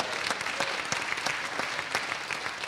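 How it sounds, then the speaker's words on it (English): A theater audience at a performing arts center gives a warm round of applause, steady clapping with distinct individual claps standing out, moderately loud throughout. "Nice round of applause for all of our restaurants."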